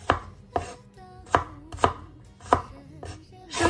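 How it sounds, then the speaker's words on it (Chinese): A knife slicing garlic cloves into thin slices on a cutting board gives about eight crisp, evenly spaced chops, close and clear with no talk. "再准备一把大蒜子， 再切成薄薄的厚片"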